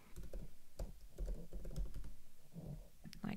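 Rapid typing on a computer keyboard while building a printable daily planner, with clustered light key clicks and occasional heavier key presses, close and quiet.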